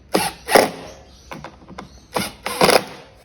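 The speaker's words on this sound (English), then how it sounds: "that screws in with our Phillips head" A Phillips head screwdriver drives a screw into a small cover on a Victa two-stroke lawnmower pull start, giving a few close, scratchy ratcheting bursts separated by short pauses.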